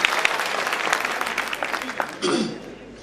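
Applause from a kavi sammelan audience at a Hindi poetry recital, a dense, sustained clatter of many hands that swells again near the end with some crowd noise mixed in.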